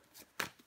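A tarot card is turned face down with a faint, quick papery swish and a soft slap, a single brief card sound in an otherwise quiet moment.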